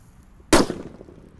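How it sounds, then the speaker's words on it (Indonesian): A small sunflower firecracker bursts inside a bucket with one sudden, loud bang that rings briefly, then quiet. "Yang pertama ini ada mercon sunflower. Ukurannya kecil tapi beledosnya banter ya"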